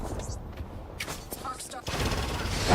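Rapid bursts of video game gunfire crackle through a ranked console shooter match, with denser sustained firing near the end and game voice lines over the shots.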